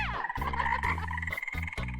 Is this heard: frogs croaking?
yes